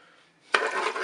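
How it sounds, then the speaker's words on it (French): Rice being stirred with a vegetable stock cube in a Cookeo multicooker pot, a sudden scraping swish that starts after a quiet moment and continues as a close, rough stirring texture, no voices. "Je vais mélanger avec mon riz."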